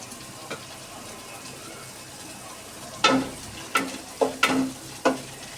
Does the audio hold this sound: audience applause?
no